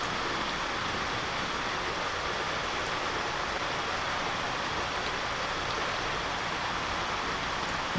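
Light drizzle falling steadily, a soft continuous hiss of fine rain with no breaks, fairly faint and even throughout, with no voices.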